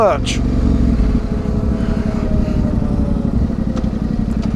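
A Yamaha Tenere 700 motorcycle engine rumbles loudly and close while riding, its pulsing exhaust note steady under someone talking throughout.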